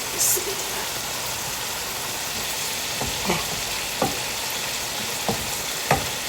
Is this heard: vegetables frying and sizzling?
yes